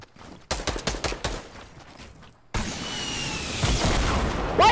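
Gunfire in the Fortnite video game on PS4: a quick run of loud shots in the first seconds, then denser, continuous firing with explosive booms that builds toward the end, with no talk over it.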